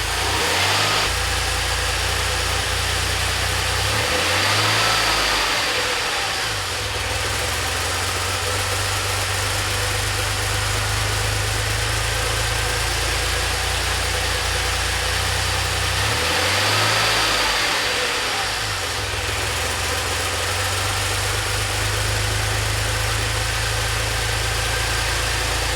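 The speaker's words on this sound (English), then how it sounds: "It's an idle hunting problem." A DeLorean engine idles close by with a hunting idle, its steady drone rising and falling in slow surges roughly every twelve seconds, with no talking.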